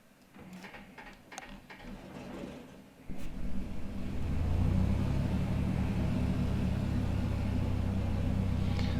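A Piper Comanche propeller engine starts in a flight simulator: a few clicks and ticks, a cranking whir, then at about three seconds the engine catches and settles into a steady, low, droning rumble.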